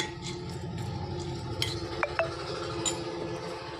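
A spoon clinks against a glass or ceramic bowl while mango and fenugreek pickle is stirred, with a soft scraping mix and a few sharp taps.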